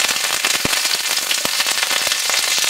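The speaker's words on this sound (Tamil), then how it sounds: "இப்போ கடுகு வெடிச்சிருச்சு." Mustard seeds and curry leaves splutter in hot coconut oil in a pan, a dense, close stream of sharp pops and crackles with a few louder bursts.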